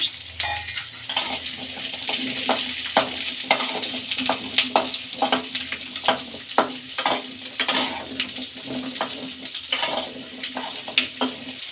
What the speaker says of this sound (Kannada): ಈಗ ಈರುಳ್ಳಿ ಎಲ್ಲ ಹುರ್ಕೊಂಡಿದೆ